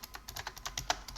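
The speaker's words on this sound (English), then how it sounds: "you type in sudo pacman s yyuu, and then you hit enter" A Linux package-update command being typed on a computer keyboard: a quick run of about a dozen light, close key clicks in an uneven rhythm, with one sharper keystroke near the end.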